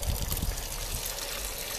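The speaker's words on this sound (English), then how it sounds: "no YouTube rain barrel demonstration would be complete without turning the valve on" Water runs from a quarter-turn bib valve on a rain barrel holding only a few inches of water, a steady close splashing trickle with no voices.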